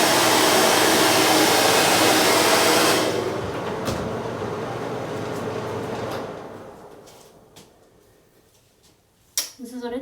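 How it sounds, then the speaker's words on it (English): A hair dryer blows loud and close on freshly bleached and toned hair for about three seconds, then drops to a lower setting and fades away, followed by a few clicks and handling noises at the end. "I'm gonna dry it real quick and we'll see how it looks."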